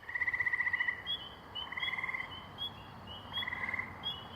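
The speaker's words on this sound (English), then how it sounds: "you can hear it, it's the sound of the frogs." Spring peepers and tree frogs calling at night in Maine in late May, a chorus of rapid trilling bursts repeating every second or so over a soft background hum of more distant frogs.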